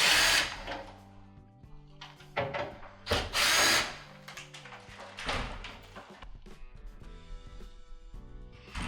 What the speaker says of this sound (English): we're going to remove two Phillips style screws on the far left and right corner